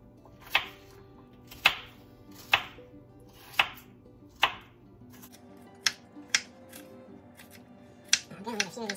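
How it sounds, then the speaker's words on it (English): A knife cuts up an onion on a board, giving a series of crisp chops, steady at first and then quicker and lighter, ending in a fast cluster of taps, close and without talking. "So I'm just cutting up the onion here."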